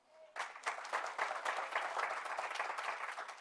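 After a brief hush, an audience at a hero medal presentation ceremony breaks into applause for an introduced guest, a steady round of many hands clapping that carries on at even strength.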